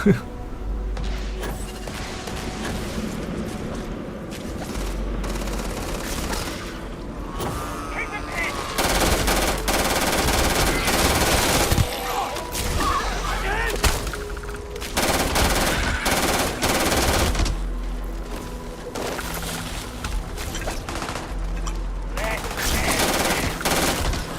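Dense, continuous gunfire fills a combat sequence in the video game Starfield, with rapid automatic bursts and heavy shots pounding loudly and almost without pause throughout.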